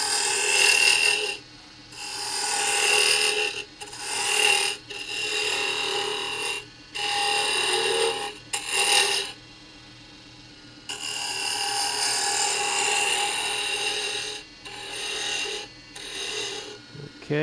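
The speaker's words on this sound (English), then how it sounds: "we're going to just take this spindle roughing gouge. This is going to be the thickest part of the handle, so we're just going to start a gentle taper down here" Spindle roughing gouge cutting a wooden gavel handle on a wood lathe, repeated rasping scraping passes of a second or two each, separated by brief pauses, close and steady.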